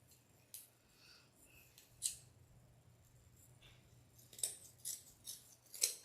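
Scissors snipping ribbon while making a decorative fall bow, a handful of quiet, crisp cuts spread unevenly over a soft, hushed background, close by and alone without talk.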